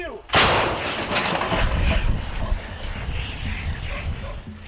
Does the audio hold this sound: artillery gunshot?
yes